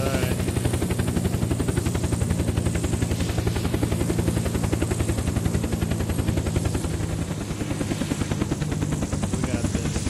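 A helicopter in the game Unturned gives off a loud, steady rotor chop with rapid, evenly spaced blade beats and a droning engine underneath, close and continuous, while people talk over it.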